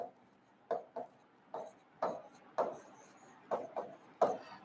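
Chalk writes on a board during a botany class, with short scratchy strokes and taps arriving in quick irregular bursts, close and moderately loud with no talk over them.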